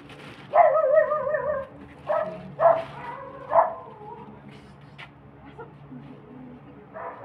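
A dog barks several times in short yappy bursts, fairly close, followed by quieter whimpering and a faint voice in a quiet room.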